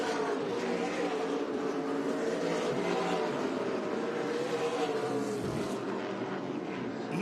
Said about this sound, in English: Full contact stock car racing here at Five Flags Speedway.